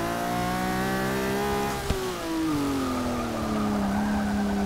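A 1979 Datsun's engine revs hard in the Forza 6 racing game, a loud, steady sustained whine with rising and falling pitch and a brief tire chirp partway through.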